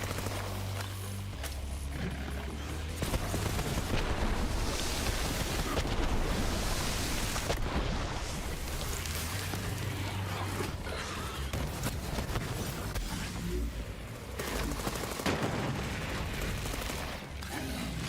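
Steady gunfire in Borderlands 3 runs throughout, a dense, loud stream of shots and impacts layered over a busy game soundtrack.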